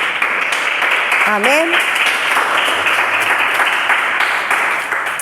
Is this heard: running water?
no